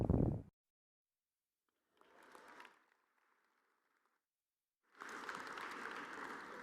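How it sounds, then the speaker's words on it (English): Audience applause at a university athletics award show, heard in a short burst at the start and then swelling into a sustained, dense round of clapping after a quiet gap. "once again, a round of applause for Hofstra University President Dr. Susan Poser"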